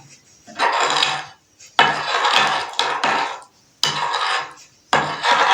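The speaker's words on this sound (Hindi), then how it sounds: "इस तरह व्यूअर्स आपने सारे मैदे को इस तरह मिक्सअप करना है" Flour being mixed into a dough for an eggless tea cake, a spoon scraping and rubbing around a bowl in four or five repeated scratchy bursts separated by short pauses, close and fairly loud.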